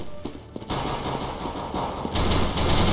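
Rapid automatic gunfire from the video game Counter-Strike rattles in dense, loud bursts that intensify toward the end, with no one speaking over it.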